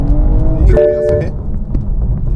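A BMW G42 M240 accelerates with a loud, close engine drone and a brief rising note, with rough crackling bursts from the exhaust.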